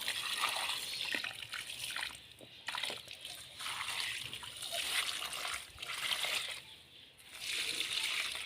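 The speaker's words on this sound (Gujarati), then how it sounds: "સૌ પ્રથમ પહેલાં આપણે તુલસી માતાને પાણી પાઈશું" Water from a filled bucket poured onto a tulsi plant outdoors in a village, a steady splashing and spattering with a few short breaks as the flow shifts, fairly close.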